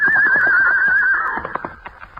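A horse whinnies loudly as a radio drama sound effect, a long wavering neigh that trails off into scattered hoof thumps and shuffling near the end.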